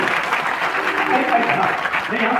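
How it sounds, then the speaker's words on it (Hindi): Audience clapping at a motivational speaking program in Deoghar, a dense steady wash of applause throughout with a voice faintly underneath. "आपकी ताली बज रही है"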